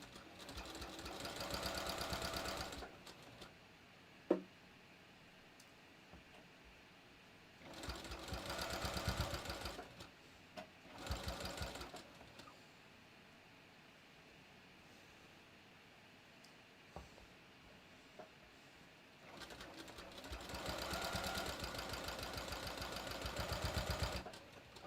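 A sewing machine stitches a bathrobe in several separate bursts of steady whirring, stopping and restarting between runs, with quiet pauses and a small click in between.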